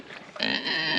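Young feeder pigs grunting and oinking close by, a short run of throaty grunts rising into a sustained nasal squeal.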